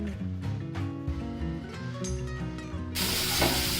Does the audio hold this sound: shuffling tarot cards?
no